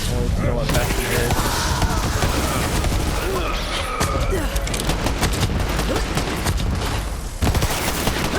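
The Bessie gun fires in Borderlands 3 as a steady barrage of loud shots that runs the whole span, while voices talk throughout and a heavier boom lands near the end.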